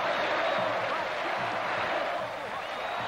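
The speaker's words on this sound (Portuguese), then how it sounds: "Quando Robinho dá lugar a Basílio, tem uma sessão exclusiva de aplausos" A stadium crowd of about 36,000 football fans applauds a substituted player, a dense, steady roar of clapping and cheering that fills the whole stretch, heard from within the stands.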